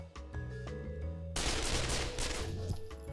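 Gunfire in the Pavlov VR shooter game, a sudden loud burst of shots cutting in partway through after quieter game sounds, close and dense, no speech.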